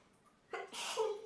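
A single sharp sneeze in a workshop room on a video call, a brief quiet intake followed by a short burst, fairly faint and alone.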